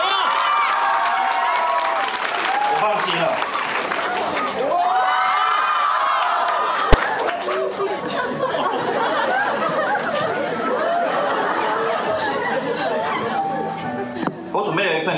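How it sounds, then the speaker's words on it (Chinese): A university graduation-ceremony audience in a hall cheers and shouts loudly, with crowd chatter and laughter building into a sustained roar. A speaker's voice rises above the noise at points. "第二个请鼓掌。"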